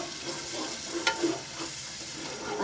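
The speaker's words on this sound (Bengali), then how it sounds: "সুন্দর করে এখন মশলাটা এমনভাবে কষাইতে হবে তেল ফুইটা উপরে আসবে" Spice paste with ground coconut paste being fried and stirred in oil for a crab curry, a steady close sizzle with soft scraping strokes of the spoon, no talking.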